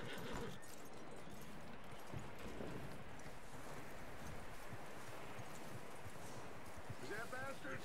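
Horse hooves clip-clop steadily while riding in the video game Red Dead Redemption 2, a rhythmic trotting beat mixed with ambient wind and a voice talking over it.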